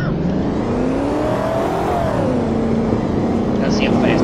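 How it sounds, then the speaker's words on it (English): Engine roar of a car doing burnouts in the Roblox game Greenville, a steady loud revving drone with rising and falling pitch throughout, with a person talking over it. "This car can do burnouts. I want to do burnouts."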